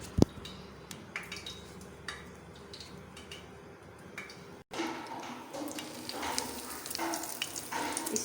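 Potato patties fry in hot oil with a steady crackling sizzle, a sharp clink at the start and the frying growing louder and busier after a patty goes in partway through.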